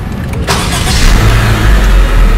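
A 2020 Honda City base-model car engine turns over and starts, a brief starter crank followed by a smooth, steady low idle heard close and fairly loud.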